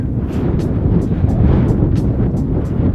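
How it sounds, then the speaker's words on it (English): Strong wind roars and buffets close by on a snowy riverbank, a constant low rumble with gusty bursts throughout. "Wait for that wind to pass here."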